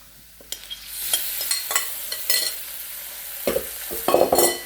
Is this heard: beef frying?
yes